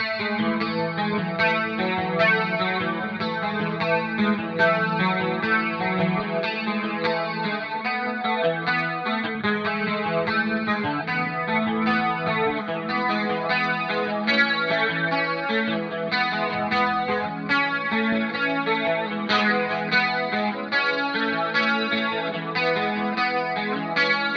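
An electric guitar with chorus-like effects plays a dense, continuous part for about twenty-four seconds, first dry and then with a high-pass filter, a low-pass filter and a small 5 kHz boost, the tonal shift subtle.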